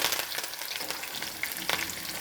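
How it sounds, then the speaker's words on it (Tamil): Sliced onion and curry leaves sizzle loudly in hot oil in a pan, a dense crackling hiss broken by occasional stirring scrapes, with no voices over it. "எண்ணெய் காஞ்சிடுச்சு வெங்காயமும் கருவேப்பிலையும் போட்டுக்கலாம்"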